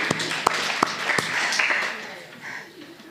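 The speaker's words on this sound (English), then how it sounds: "Give yourselves a round of applause." A retreat group claps in a brief round of applause during a public speaking session, with a few sharp distinct claps standing out before the sound tails off into faint murmuring.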